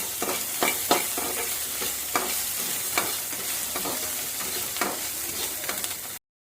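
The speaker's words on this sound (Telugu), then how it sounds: "మనం ఎప్పుడైనా సరే ఫ్రైడ్ రైస్ చేసేటప్పుడు హై ఫ్లేమ్ మీదే రోస్ట్ చేసుకోవాలి." Egg fried rice, seasoned with ginger-garlic paste and salt, sizzles loudly on high flame while a spatula scrapes and stirs the pan in regular strokes, close up and with no talking.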